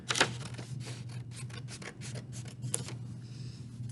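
Paper is cut into a shape with scissors, giving a quick series of close, soft snips and rustles over a low steady hum.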